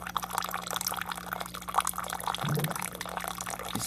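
Hot boiled water is poured for tea in a soft, steady trickle with faint splashing and a low background hum, quiet and without any voices.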